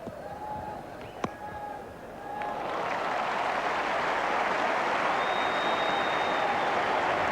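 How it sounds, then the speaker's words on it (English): A big cricket crowd at the MCG breaks into applause: after a sharp knock and brief quieter stretch, loud sustained clapping and cheering swell and hold steady to the end. "this running between the wickets brought a roar of applause from this big crowd here at the MCG"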